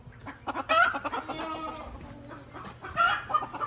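Silkie chickens, one a hen that has just hatched chicks, clucking in a farm enclosure, with several close, loud bursts of clucking and squawking that rise and fall over the clip.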